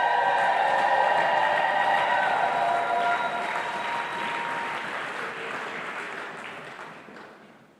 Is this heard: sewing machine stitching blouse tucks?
no